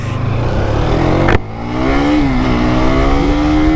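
A KTM superbike engine revs loudly up close, cuts off with a sharp break, then pulls away with a rising, steady drone as the bike rides off.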